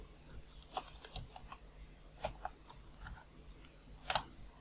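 Soft, sparse key clicks from typing on a computer keyboard, faint and close, arriving in small irregular bursts with gaps between them.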